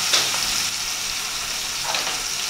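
Garlic cloves frying in a pan alongside onions give a steady, close sizzle with crackling hiss that runs unbroken throughout, rising slightly with a couple of brief spatters.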